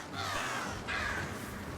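Crows caw in the video game Prince of Persia: The Lost Crown, two harsh calls in quick succession, fairly close and loud over a steady background ambience.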